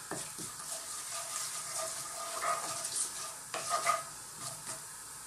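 Fennel and cumin seeds sizzling in oil for a vegan Indian potato curry, a faint crackling fry with soft stirring scrapes and a few small bursts, no talk.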